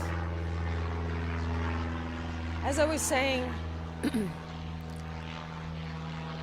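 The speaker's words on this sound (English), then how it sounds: "Let's wait for the plane to pass." A propeller airplane drones steadily overhead during an outdoor memorial vigil, a constant low rumble beneath brief spoken words from a nearby speaker.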